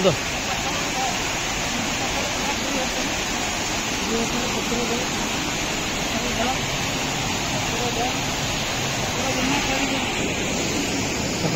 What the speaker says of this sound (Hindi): सुंदर वाटरफॉल बहुत सुंदर वाटरफॉल देखते